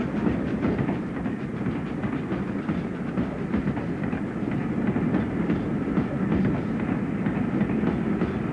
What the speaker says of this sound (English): The Queen arrived by train at the low-level station